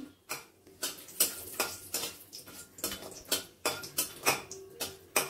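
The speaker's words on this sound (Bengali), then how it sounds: "আমরা এখানে কটা বড়ি ভেজে নিচ্ছি" Sun-dried lentil dumplings (bori) fry in a pan of oil for a spinach chorchori, giving a run of repeated sharp crackles and clinks, roughly two or three a second, close by and fairly quiet with no talk.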